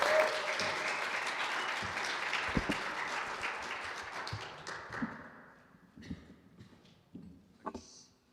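An audience applauds a band as it gets ready to play, a dense burst of clapping that thins out into scattered claps and taps before fading.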